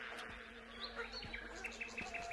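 Bees buzzing in an old Soviet-era animated cartoon, a steady insect drone with faint chirpy tones and a low hum running throughout, no speech.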